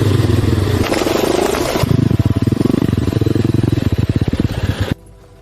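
A dirt bike engine revs and chugs loudly while being ridden through rough forest terrain, a steady rattling drone with rapid pulsing firing beats that cuts off abruptly near the end.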